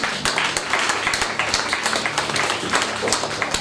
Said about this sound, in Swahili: Pigia makofi Roho Mtakatifu.